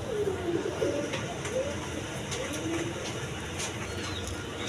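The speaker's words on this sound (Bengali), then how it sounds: "এই খুব কিউট কবুতর দেখেন, একদম রানিং পেয়ার" Pigeons coo in soft, low, rolling calls close by over a steady background hum, with brief sharper knocks scattered throughout.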